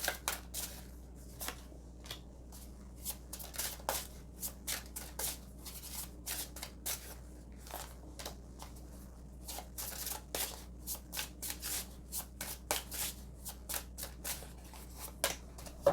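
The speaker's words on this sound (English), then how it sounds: "then we'll shuffle the tarot" Tarot cards are shuffled repeatedly, a quiet series of crisp riffling snaps and slides in an irregular rhythm, close up with no talk.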